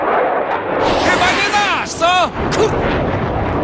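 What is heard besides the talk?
fighter jet flying past in the video game Battlefield 3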